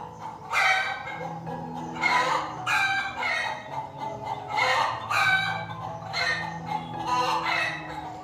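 Chickens calling loudly at close range in a yard, with a rooster crowing repeatedly in long drawn-out bursts, about six in a row.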